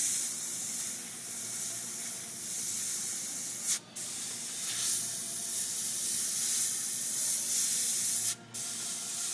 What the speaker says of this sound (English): This airbrush is excellent for that.